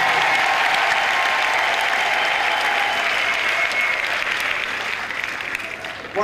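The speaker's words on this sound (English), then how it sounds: "If you agree with me, clap for yourself, please." An audience at an International Widows Day celebration claps loudly and continuously, the dense applause holding steady before thinning out near the end.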